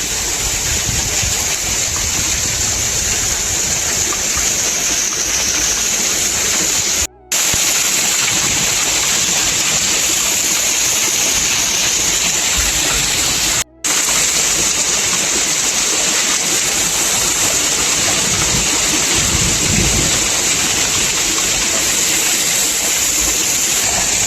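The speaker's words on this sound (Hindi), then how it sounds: "बहुत ही तेजी से जो ये मूसलाधार बारिश है।" Torrential rain pours during a violent storm with hail, a steady loud hiss of heavy water that holds constant throughout, broken only by two brief dropouts.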